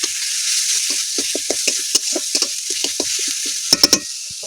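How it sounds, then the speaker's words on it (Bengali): Spices, tomato paste and Kashmiri chilli powder sautéing in a pan for a red fish curry, with a steady close sizzle and repeated scraping stirs, then a few sharp clanks of the spoon against the pan near the end. "এগুলো একসাথে ভালো করে কষিয়ে নেব"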